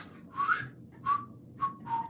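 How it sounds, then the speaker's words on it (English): Someone whistles a few short, breathy notes close by, four separate puffs with airy hiss and no clear tune. "I can't even whistle anymore."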